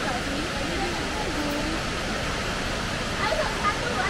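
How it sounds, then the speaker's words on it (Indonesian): Tumpak Sewu waterfall in Lumajang, East Java: a steady, broadband roar fills the clip, constant and unbroken, with faint background voices mixed under it. "Ini penampakan untuk air terjun Tumpak Sewu."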